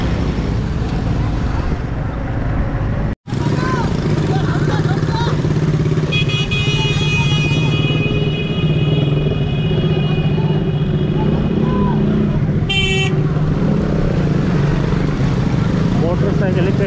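A motorcycle weaves through traffic on a road in Umarkot, Sindh. Its steady, close engine drone and wind rumble run throughout, broken by a brief dropout. A high, thin tonal whine rises in the middle.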